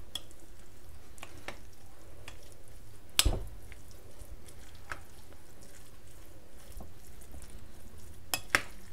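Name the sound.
stirring chicken pastilla filling with onions from reduced sauce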